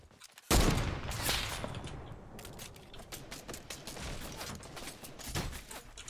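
Video game gunfire: a sudden loud shot followed by a string of sharp clicking, rattling reports and mechanical clatter, close and fairly dense, with no voices.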